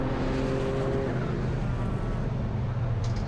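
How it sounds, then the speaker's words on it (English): Race cars lapping the Brands Hatch GP circuit during a Trackday Trophy race, including a silver Mazda 2 and a Gen 4 Clio, make a loud, steady engine roar that holds throughout with a droning pitch at the start. "There goes the silver Mazda through the shot."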